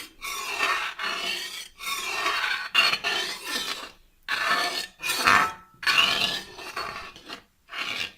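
Vegetables are stirred and scraped in a cooking pan in repeated rasping strokes of about a second each, separated by short pauses, close and fairly loud, with no voice.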